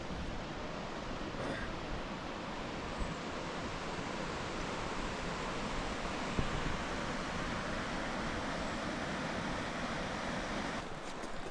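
Steady broadband rush of a creek flowing through a Colorado canyon, continuous and fairly loud with no pauses, heard close by and alone with no talking.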